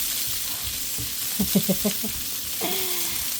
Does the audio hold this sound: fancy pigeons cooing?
no